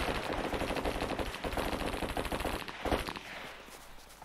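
Rapid automatic gunfire empties a whole magazine in the online PvP survival game SCUM, a dense run of shots for about three seconds that then trails off into fading echo.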